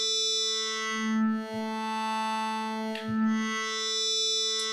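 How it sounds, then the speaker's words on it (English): A sustained synth tone built by wavetable interpolation, steady and harmonically dense, its timbre shifting slowly in a repeating sweep over a few seconds. "We can do wavetable interpolation."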